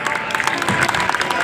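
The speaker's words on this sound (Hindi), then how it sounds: "आपसे अनुरोध उनके लिए एक बार जोरदार तालियां" Audience applause for the actor playing Dasharath at a Ramlila stage performance in Anaj Mandi. Dense, steady clapping from a sizeable crowd fills the moment, fairly loud and close.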